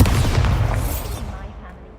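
In Hogwarts Legacy, a Bombarda spell explodes in a loud, dense blast with crackling debris, dying away over about two seconds.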